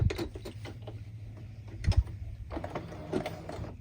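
A sewing machine stitching a zigzag seam, a quiet rapid mechanical whir with a low rhythmic thump and small clicks, close and fairly faint, no talking.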